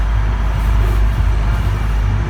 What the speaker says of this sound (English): that noise you may be hearing is actually traffic on the Bronx River Parkway